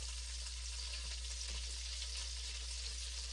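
Country fried venison steak sizzles steadily in a hot pan, a dense, even frying hiss that holds at one level throughout with no voices.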